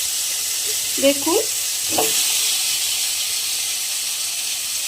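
Potato pieces dropped into hot oil in a pan for a Bengali fish curry, giving a steady bright sizzle with a short bubbling burst as they go in, and a brief word spoken over it.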